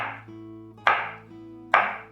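A knife slices through tomatoes on a cutting board for pico de gallo, giving two crisp, fairly loud chops about a second apart, with a low steady hum beneath and no talking.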